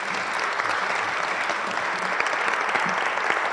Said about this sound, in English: Please give them a wonderful applause.